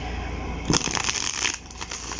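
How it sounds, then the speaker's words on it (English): Glossy, slippery tarot cards are riffle shuffled close by, giving a quick fluttering burst of snapping card edges followed by softer rustling and settling. "So riffle shuffle is not that bad, except that they're really slippery because of how glossy they are."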